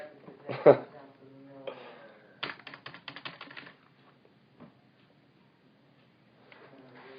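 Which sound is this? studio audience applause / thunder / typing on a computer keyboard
typing on a computer keyboard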